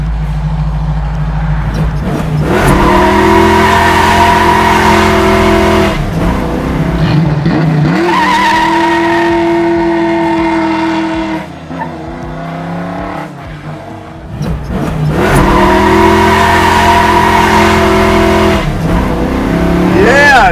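Garage-built 1965 Ford Mustang coupe hot rod revving hard and sliding sideways, loud engine roar rising and falling in long pulls with tire squeal, a brief lull midway, and a voice talking over it.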